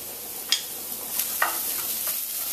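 Garlic sizzles lightly in a hot pan with kosher salt, a soft steady hiss broken by a few sharp clicks and scrapes of stirring, close and quiet with no voices.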